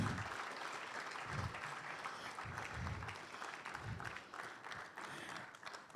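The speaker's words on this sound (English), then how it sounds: "Let's keep the applause coming." A crowd claps steadily at the Ghana Statistical Service launch of its Governance Series Report Wave 2, sustained applause filling the room with a few louder low thumps scattered through it.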